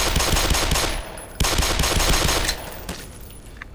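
Rapid pistol gunfire from the video game Black Mesa, loud and close, with bursts of repeated shots in quick succession, a brief pause near the middle, then another volley that tapers off.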